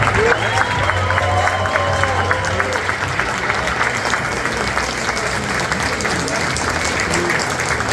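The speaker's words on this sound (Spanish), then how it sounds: "Ahora sí, démosle el aplauso de nuevo." A crowd gathered in Houston for a meeting of El Salvador's deputies with the diaspora applauds loudly and continuously, dense clapping with some cheering and crowd murmur layered over a low hum throughout.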